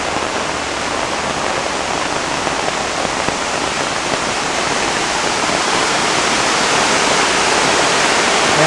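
Heavy rain and rushing water pour down at an outdoor work site on a rainy afternoon, a loud, dense and unbroken roar of falling water that fills the space without a pause.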